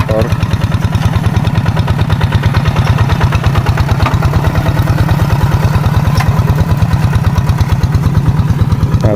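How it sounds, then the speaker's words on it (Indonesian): A loud, close tractor engine ploughing a field, chugging with a fast, even rhythmic clatter, running steadily throughout without pause. "kita saksikan lagi ya proses pengolahan lahan di sini"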